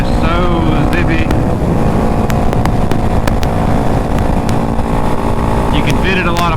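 A Yamaha WR250R motorcycle engine runs steadily and close throughout, a continuous buzzing drone with wind rush over the microphone and a few sharp clicks.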